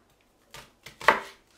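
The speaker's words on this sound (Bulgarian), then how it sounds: "Оставяме го да се пържи, а ние се вземаме с рязането на зеленчуците." A knife chops an onion on a cutting board for a traditional Bulgarian dish, with three quick, close cuts after a short silence.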